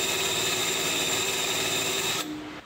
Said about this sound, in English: now we just gotta mark the holes and drill.